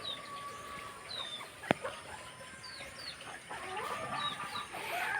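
Chickens cluck and chirp softly nearby over quiet outdoor ambience, with a sharp click partway through and busier clucking near the end.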